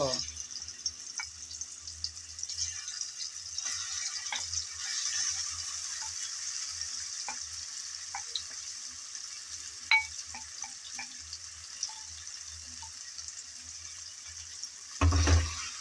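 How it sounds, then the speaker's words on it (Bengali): Marinated shrimp hit a hot pan that already holds bay leaf, giving a steady, bright frying hiss throughout with small crackles and a louder burst of sizzle and clatter near the end. "এখন আমি ম্যারিনেট করা চিংড়ি মাছগুলো দিয়ে দেব"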